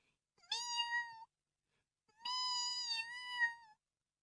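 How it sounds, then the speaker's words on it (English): A cat giving two plaintive, drawn-out mews, close and clear, separated by a short silence. "At once there came a pathetic mewing."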